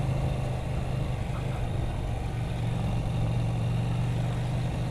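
A KTM 790 Duke motorcycle engine labours in second gear at low revs, a quiet, steady low drone with a faint humming tone and no other sounds standing out.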